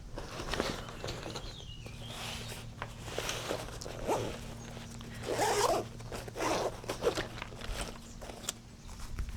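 Zipper on the storage compartment of a sling bag pulled open and shut several times, short near zipping strokes mixed with light handling and rustling, no talking.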